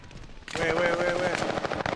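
Light machine gun fire in an online shooter video game, a dense, loud rapid burst of shots that starts abruptly and rattles on steadily, with game ambience beneath.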